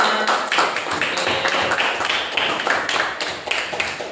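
A Grade 4 classroom of pupils claps for the last group, a dense patter of many hands ringing steadily and fairly loud throughout.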